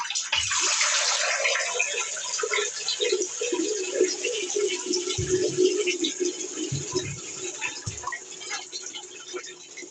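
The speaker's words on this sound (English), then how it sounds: "I think the hot tap needs to run for a bit to clean the pipe out" A hot water tap runs steadily, a continuous broadband gush of water filling a basin or tub, close and fairly loud, with a few low knocks and faint background sounds underneath.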